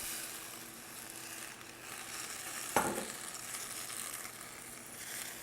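Spinach sizzling in a hot pan at medium-high heat as white wine goes in, a steady quiet frying hiss with one brief sharp clink partway through.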